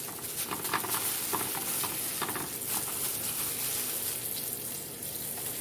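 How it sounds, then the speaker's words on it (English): Floured Swiss steaks browning in a hot skillet give a steady, moderately quiet sizzle with light crackle and spatter throughout, no voices over it. "So you're just going to brown these steaks on each side."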